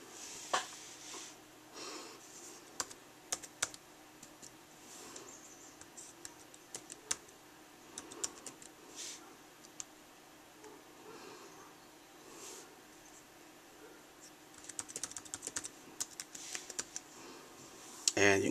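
A username and password are typed on a Microsoft Surface tablet keyboard, producing quiet, irregular key clicks that speed up into a quicker burst near the end, with faint background noise.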